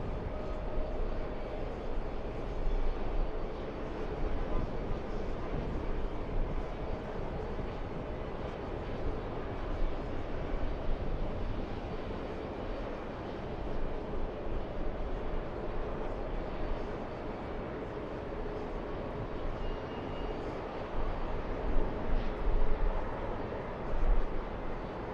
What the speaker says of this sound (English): Let's go for the JetBlue 8 to 20, pushing.